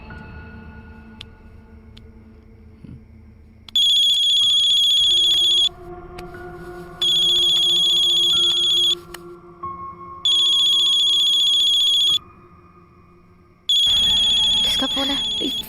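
A phone ringtone sounds loudly in four repeated bursts with short gaps, over a background of people talking indoors.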